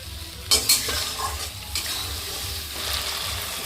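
Spice paste for a vegetarian winter khichuri with vegetables being stir-fried in oil, a steady sizzle under spatula scrapes and a couple of sharp knocks against the pan, close and fairly loud.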